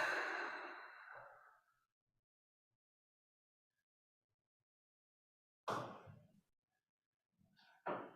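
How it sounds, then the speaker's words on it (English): A slow, deep breath out, close and soft in a quiet room during a guided meditation, followed after a long silence by two more audible breaths in and out. "take a nice deep breath in and breathe out"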